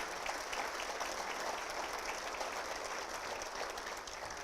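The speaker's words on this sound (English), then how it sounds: "So let's give her a round of applause." At a 2015 State of the City address, an audience honoring Matamoros mayor Leticia Salazar claps in a continuous, even wash of applause, moderately distant and fairly quiet, with no break.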